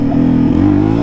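Small-displacement motorcycle engine revving steadily and loudly up close while a rider practises wheelies, with a sustained droning note that shifts slightly in pitch as the throttle is held.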